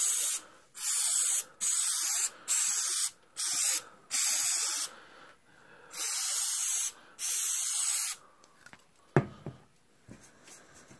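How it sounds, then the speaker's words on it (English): Can of tacky spray adhesive sprayed on thickly for model railroad loads in a series of loud, close hissing bursts of a second or so each, followed by faint handling rustles. "we'll spray this on real thick"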